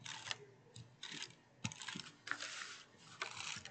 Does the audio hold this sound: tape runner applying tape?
yes